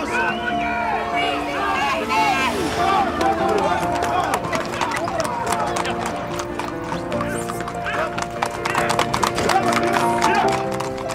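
A horse trots down a road with steady clip-clop hoofbeats. People talk and a crowd murmurs over it throughout.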